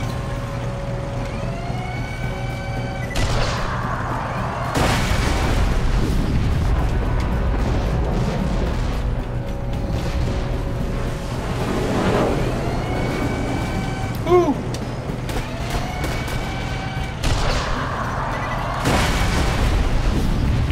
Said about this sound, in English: Yep, I think those are nukes.